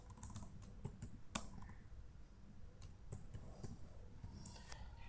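Quiet, close keystrokes on a computer keyboard as a short name is typed in, irregular clicks and taps in small bursts over a faint room hum, with no talking.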